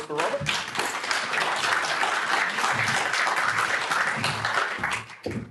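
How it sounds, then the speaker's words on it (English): Audience applause after a talk on AI, a full, sustained roar of clapping from a crowd that holds steady before tapering off near the end. "A round of applause for Robert"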